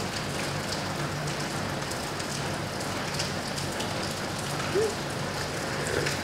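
Steady rain falls throughout as an even, continuous hiss of drops on a surface, with a faint low hum and a few small kitchen clicks underneath and no talk.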